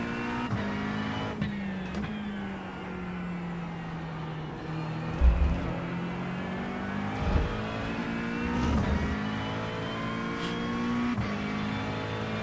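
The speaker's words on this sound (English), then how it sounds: "Quite the power slides in this car." Race car engine in the iRacing sim at Fuji, holding a steady droning note with harmonic sweeps as revs rise and fall through power slides, with brief low thumps and tire scrub, no talk.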